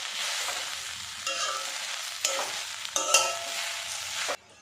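Taro leaves (kochu shak) being stir-fried with salt in a pan, a steady soft sizzle broken by several louder scraping stirs of the spatula, close and without voices.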